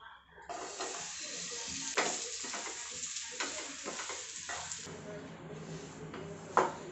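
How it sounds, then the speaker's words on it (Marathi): Dates fry in ghee in a pan with a steady close sizzle, broken by repeated scraping strokes of a spatula and a sharp knock near the end, and no one speaking. "तूप टाकून घेते आणि आता खजूर परतून घेऊ"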